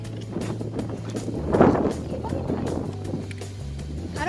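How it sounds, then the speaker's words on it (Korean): Strong wind at a mountain campsite on Jobisan roars and buffets the microphone in a steady rush, with one louder gust in the middle, while a person talks over it. "지금 바람 엄청 불고 있거든요"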